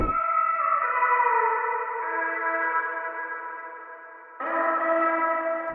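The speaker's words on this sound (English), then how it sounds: "So the next thing I added were these vocal chops, which sounds like this." Vocal chops from a Kontakt sample library, soaked in heavy reverb, hold sustained, smeared tones that shift pitch partway through, then swell again near the end. The sound stays loud and continuous with no talking over it.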